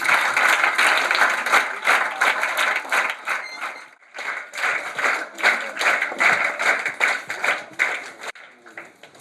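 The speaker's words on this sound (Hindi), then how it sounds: "एक बार पुनः जोरदार तालियां।" A large audience at a public event in Chhindwara claps loudly and steadily, with one brief dip in the middle before the applause swells again and then fades toward the end.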